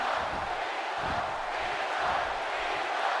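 Arena crowd noise in the wrestling video game WWE 2K18 during a Hell in a Cell match with John Cena, a dense steady roar of cheering that fills the short clip at an even loudness.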